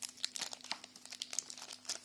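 Foil wrapping of a Pokémon card booster pack crinkles and tears in quick, irregular bursts close by, crisp rustling that rises and falls over a couple of seconds.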